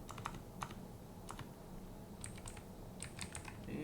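Someone types a terminal command on a Raspberry Pi 5's computer keyboard, quick bursts of light key clicks in short irregular runs over a faint steady background hum.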